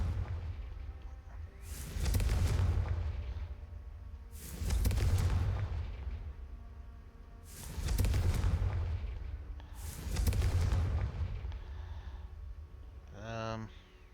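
Confringo fire spell blasts from Hogwarts Legacy, four loud booming bursts at a steady rhythm about every two and a half seconds, each swelling and fading, followed by a short whooshing sweep.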